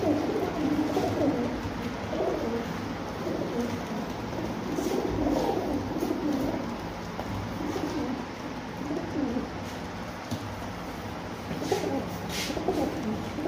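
Pakistani pigeons coo steadily and softly at close range, overlapping low throaty calls repeating throughout over a constant background hum, with no voices present.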